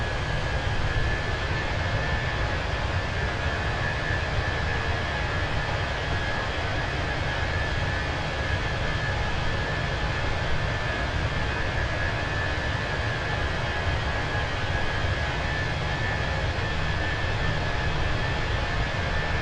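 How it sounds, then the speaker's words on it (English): Fenix A320 airliner engines spooling down in Microsoft Flight Simulator, a steady, loud, broadband turbine roar with a faint high whine, running evenly throughout with no talk. "I can hear the engine spooling down."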